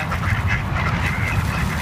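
Ducks in a park, gathered while being fed bread, quack loudly and close up in a busy overlapping chorus, with honking mixed in and no talk.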